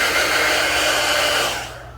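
A hair dryer blows on a lace front wig during a quick weave styling, giving a loud, steady close-up whoosh that runs the full two seconds before tapering off slightly at the end.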